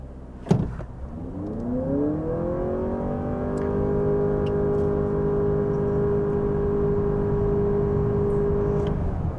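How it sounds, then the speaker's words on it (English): A 2023 Honda Accord hybrid roars and revs up hard from a standstill in a 0 to 60 run, its pitch climbing quickly then holding steady at a loud, sustained drone. "let's go ahead and test out the 0 to 60 and see what we actually can get in the real world"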